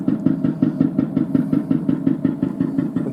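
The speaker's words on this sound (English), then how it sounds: "So that's the 1-cylinder engine, 4 strokes by Gottlieb Daimler." A Gottlieb Daimler single-cylinder four-stroke engine runs at a steady, even rhythm of knocking thumps that sound close and moderately loud.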